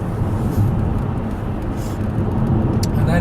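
Car driving along Bouquet Canyon Road, a patched and uneven stretch, heard from inside as a loud, steady low road and engine rumble throughout.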